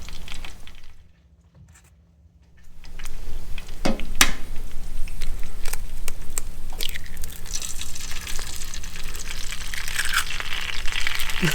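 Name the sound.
eggs frying in heating oil in a pan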